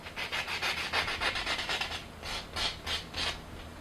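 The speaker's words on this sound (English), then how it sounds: "You use side one, which is evening out, which you use just basically like a file." A buffing block files a fingernail with quick, rhythmic back-and-forth rasping strokes, close and fairly soft, and no one speaks.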